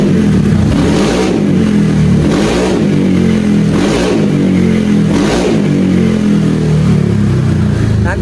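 A Honda Vario scooter engine revved hard in repeated surges, four rising bursts over a steady loud idle, close to the microphone, with no talking.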